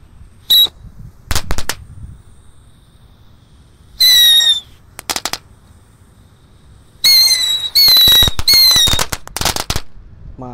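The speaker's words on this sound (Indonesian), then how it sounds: "ada mercon tikusan Pratek. Kita nyalakan 6 biji sekaligus guys." Several mercon tikusan firecrackers, six lit at once, pop in separate bursts, some single bangs and some rapid clusters with whistling squeals, loud and close against a quiet outdoor background.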